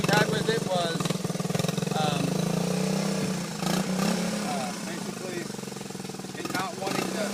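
A 1977 Honda CT90 vintage trail motorcycle idles close by with a steady, buzzy small-engine putter throughout, while a person talks over it.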